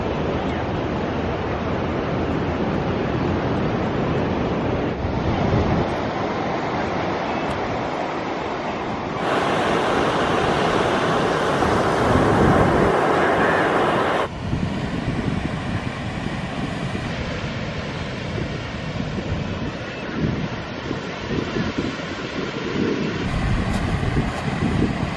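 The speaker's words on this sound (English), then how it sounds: "Now obviously we've got the fresh water flowing out there at the moment with a tide out" Fresh water runs out to sea at a tidal outlet on a Cornish beach near Swanpool, Falmouth, with waves breaking continuously close by and strong wind buffeting the microphone the whole time.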